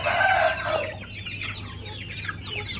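Hens on a rooftop cluck loudly and close at first, then settle into softer, scattered clucks and chick peeps.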